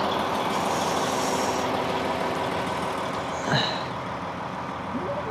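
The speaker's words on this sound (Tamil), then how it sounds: "டெய்லியும் காலையில் வந்துட்டு ஒரு 20 மினிட்ஸ் கிட்ட வண்டியை ஐடியலில் ஓட விட்டுட்டு போனால் தான் பேட்ரி டவுன் ஆகாமல் இருக்கும்" A vehicle engine idles on a cold morning, giving a steady, continuous low rumble close by with a faint brief squeak partway through.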